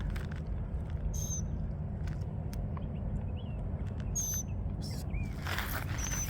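Wild birds call in short, sharp chirps scattered over a steady low outdoor rumble, the calls fairly distant and intermittent with no one speaking.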